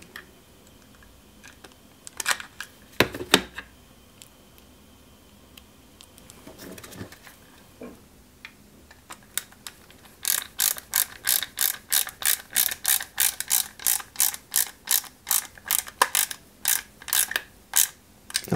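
Small screws are driven into a 1/8 scale Subaru Impreza WRC 2003 model kit: a few scattered clicks and knocks at first, then a fast, steady run of close, crisp ratcheting clicks from a small screwdriver.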